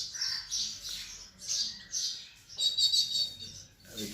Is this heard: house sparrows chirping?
yes